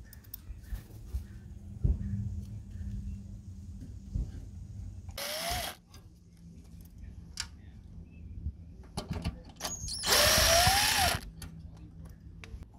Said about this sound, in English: Now we're going to remove the screws in here again with the star bit